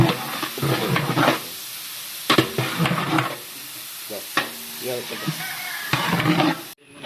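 Onions sizzle and get stirred with salt in a large pot for a 30 kg Malabari chicken biryani at a wedding, with bursts of stirring and frying close by as a person talks over it.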